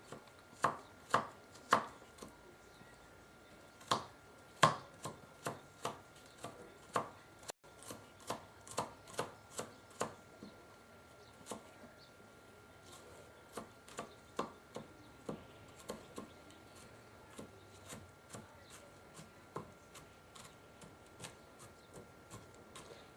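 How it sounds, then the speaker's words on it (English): A knife chops fresh garlic finely on a cutting board in a home kitchen, making a steady series of crisp, close thumps, quicker in some runs and spaced out in others, with no talking. "the garlic, you want to kind of chop it up pretty fine"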